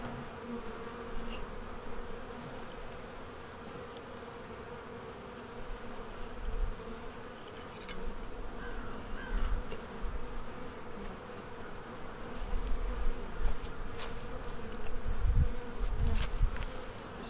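Honey bees buzz steadily around a beehive during a Varroa mite treatment with an oxalic acid vaporizer, a soft continuous drone with occasional louder passes near the microphone.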